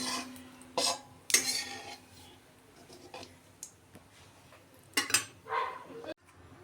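A spoon scoops fried cumin seeds out of hot mustard oil, giving a few sharp metallic clinks and scrapes against the pan over a faint background, close and sparse.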